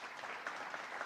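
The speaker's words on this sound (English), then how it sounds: "Let's give them a round of applause and welcome them." Applause from the audience at a Kathy Hochul announcement in Niagara Falls, a steady dense patter of many hands clapping, moderately distant and unbroken through a brief burst.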